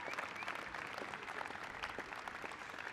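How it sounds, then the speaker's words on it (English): An audience at a SUNY Maritime commencement applauds the graduating class, a steady dense wash of clapping from a large crowd, heard at some distance and fairly faint. "please give these fine graduates sitting here today a round of applause for their hard work"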